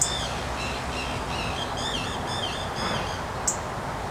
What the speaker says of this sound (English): That's that tern over there.